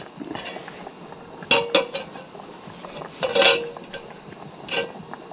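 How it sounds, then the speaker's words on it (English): A metal hot plate is set back onto a Cobb BBQ at a campsite, giving several sharp clanks and scrapes spaced a second or so apart over quiet outdoor background. "So we're going to put the hot plate back on the cob."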